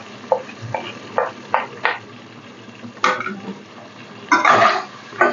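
Whole cumin and turmeric stirred into half-fried cauliflower in a pan for a Bengali koi fish curry: a few short scraping stirs, then a louder burst of clattering and sizzle near the end, close and with no talk.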